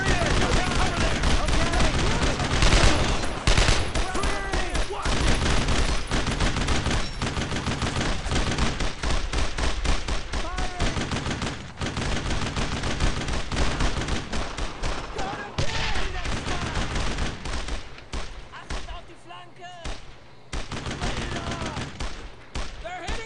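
Rapid bursts of gunfire from a World War II squad shooter set in Normandy fill the scene continuously, dense and loud, with battle chatter and shouted voices mixed in throughout.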